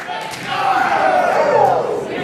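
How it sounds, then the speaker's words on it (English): A wrestling crowd roars in a sustained swell of shouting and chanting, loud and continuous, with a commentator's voice running over it. "The crowd wants Jake to get up."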